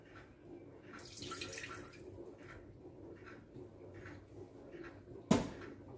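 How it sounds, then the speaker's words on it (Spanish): Water is poured into an unwashed jug while preparing sourdough roscón de reyes dough, a faint, soft trickle followed by a sharp knock near the end. "vamos a echar el agua."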